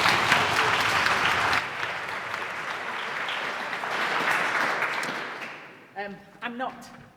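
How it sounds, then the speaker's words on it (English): A conference audience at a Python developers' event applauds in a long, steady wash of clapping for several seconds, fading out as a speaker begins talking. "Well, we have to give you the round of applause."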